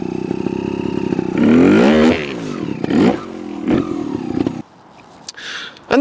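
A Yamaha TY 250 trials motorcycle revs hard in first gear as it climbs a steep rocky step, the engine note rising and falling in bursts close by, then cutting off near the end.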